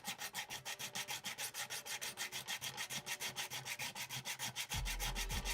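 Wood rubbed with small hand sanding blocks in steady, rapid back-and-forth strokes, close and even, with no voices over it.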